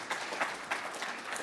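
Brief applause from a lecture audience, a soft, steady patter of many hands clapping at a moderate distance, lasting just over a second.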